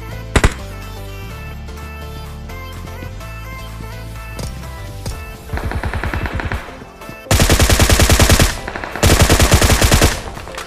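M4 and Uzi gunfire in PUBG Mobile: after a stretch of game music and effects, loud rapid automatic bursts rattle out, with one short burst, then two longer sustained volleys near the end.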